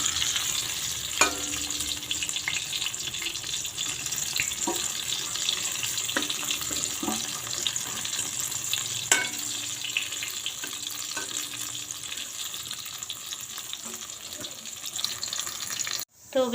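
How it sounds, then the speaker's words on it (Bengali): Eggplant slices fry in plenty of oil, a continuous loud hiss and crackle close up, with occasional sharp clicks of a utensil turning them. "তো চলো, আমি বেগুনগুলো ভেজে নিয়ে আসি।"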